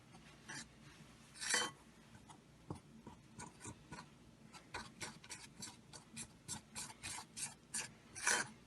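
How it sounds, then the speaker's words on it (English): Egg and flour being worked together by hand into pasta dough for spinach and ricotta tortellini, a series of soft rasping, rubbing strokes in a steady rhythm, close and fairly quiet, with no talking. "gently mix the flour into the egg"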